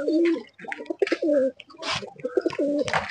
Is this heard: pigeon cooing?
yes